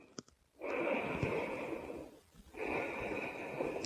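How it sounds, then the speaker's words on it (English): Slow, deep breaths taken during a yoga flow, two long airy inhales or exhales with a brief pause between, close and steady with no talking. "Take 3 deep breaths"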